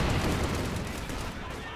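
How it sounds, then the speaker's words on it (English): A grenade explodes in a World War II real-time strategy battle, a dense burst of crackling gunfire-like blasts and booms that stays loud and rumbling throughout the short moment. "another grenade falls to the Scots"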